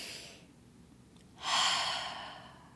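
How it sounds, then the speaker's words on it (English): A slow, calm breath at close range: a soft exhale fades into a quiet pause, then a fuller, louder airy inhale swells and tapers off. No talking. "Breathing again."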